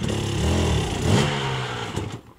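A motorcycle engine on an off-road hill track revs up as the throttle opens, a loud close mid-pitched roar that rises and falls before easing off near the end.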